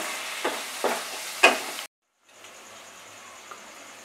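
Water poured onto chili and cumin powder frying in a pan sets off three quick sizzling bursts, then a brief silence and a quieter, steady hiss.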